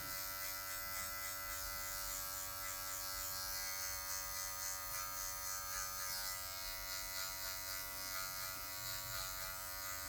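Electric hair clipper working through afro hair during a mid fade, a quiet, steady, close buzzing hum with a constant pitch and slight fluctuations as the blade moves, heard alone without talk.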